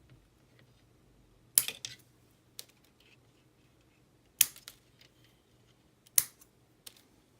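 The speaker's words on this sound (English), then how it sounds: "I can just snip these off." Three sharp, crisp snips of cutters clipping off small plastic pieces from a parts sprue for a model robot build, well spaced with faint handling clicks between in a quiet room.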